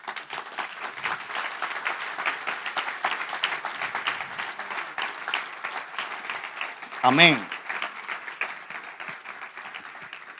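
A church congregation applauds during a sermon, a steady wash of many hands clapping beneath voices, with a loud shout rising briefly near the end.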